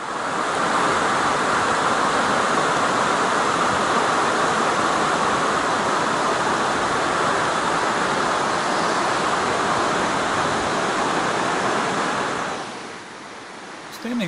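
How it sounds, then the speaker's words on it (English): A creek in flood after Hurricane Irene roars with a steady, dense rush of water that stays loud and unbroken for most of the stretch, then eases slightly near the end. "it's hard to believe how much water is actually flowing through here"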